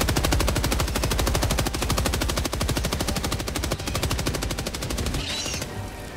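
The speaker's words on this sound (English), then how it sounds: "Heavy machine gun." A heavy machine gun firing in Helldivers 2, a loud, fast, unbroken stream of shots lasting several seconds, with a brief distorted burst near the end as the fire tapers.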